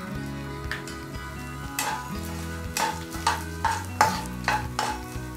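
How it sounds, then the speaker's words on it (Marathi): Edible gum (dink) frying in a pan of hot fat for winter laddoos, a steady close sizzle broken by repeated scraping stirs and spoon knocks at a roughly regular rhythm, with no talking. "डिंक जो आहे तो फ्राय करून घेऊयात"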